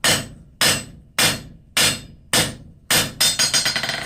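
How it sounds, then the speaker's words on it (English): Hot steel is hammered on an anvil while forging pickup tongs: six sharp, ringing blows spaced about half a second apart, then a quick run of faster, lighter strikes, close and loud. "Clean it up on the anvil surface before you go too far."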